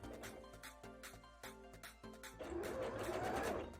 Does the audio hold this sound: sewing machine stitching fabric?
yes